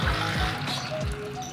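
Water poured for young chicks, a close splashing trickle of liquid running steadily over the whole short stretch.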